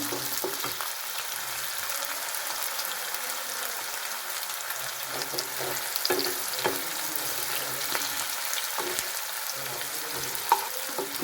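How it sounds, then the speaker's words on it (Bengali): Onions frying in a pan for a rajma curry: a steady, moderately quiet hiss and crackle with occasional spatula scrapes and light taps, no voices. "পেঁয়াজটাকে ভালো করে ভাজবো আমি"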